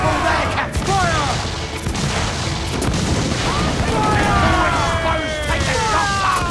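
Ship cannons fire in the Assassin's Creed IV Black Flag video game: heavy booming volleys and rolling blasts crash over a busy naval battle, with voices shouting and high whistling cries on top.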